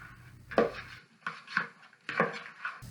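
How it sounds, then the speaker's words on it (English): Sausage stirred in a pan for a puff pastry breakfast roll, giving a few separate scraping, clattering strokes of a utensil against the pan, close and fairly quiet, with no talk. "And then we're going to add in our sausage. And let's give that a good stir."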